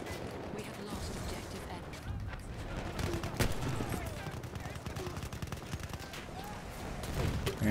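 Rifle fire in Battlefield 1, likely a Martini-Henry: scattered sharp shots and distant gunfire crackle across a busy battlefield bed, with a voice talking over the noise.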